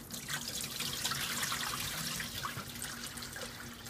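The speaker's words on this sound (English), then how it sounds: "Okay, so I'm going to drain the water off." Salt water drains off soaked chicken in a kitchen, a soft continuous trickle and splash of liquid running out, fairly quiet and close with no talking.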